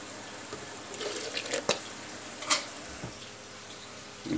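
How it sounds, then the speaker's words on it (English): About half a cup of water is poured into a blender with achiote paste for a vegan jackfruit enchilada sauce, a soft steady trickle with faint clinks in a quiet kitchen. "I'm gonna put about a half a cup of water"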